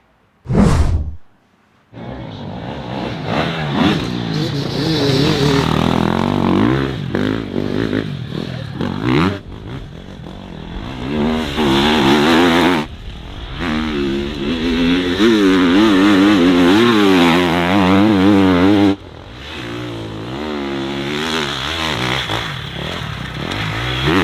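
A Triumph TF 250-E enduro factory motorcycle engine at an EnduroGP event in Portugal, starting with a short burst, then a loud, sustained idle with revving swells and dips, close by and with no talk over it.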